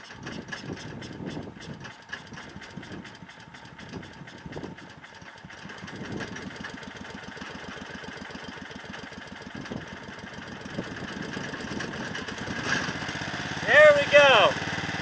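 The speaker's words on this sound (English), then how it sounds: "There's our generator. Now running on synthetic gas." A generator engine running on synthetic gas made from a wood stove drones steadily with a mechanical chugging rattle, moderately near, growing slightly louder toward the end.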